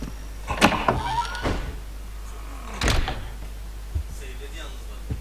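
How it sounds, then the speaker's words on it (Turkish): A door opens in the horror game Silent Hills P.T. with a few creaking, thudding knocks spread across several seconds over a low background hum. "Bak bu kapı açıldı."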